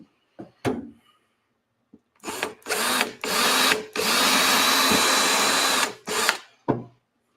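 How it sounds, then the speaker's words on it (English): A power drill bores a hole in model railway scenery to plant a model tree, sounding in several close, loud bursts of whirring with short pauses between them and one long steady run in the middle. "I'm just going to drill a hole for putting this tree in."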